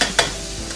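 Chicken lo mein sautés in a pan, a bright hiss with two quick sizzling bursts as it is stirred, close and without talk.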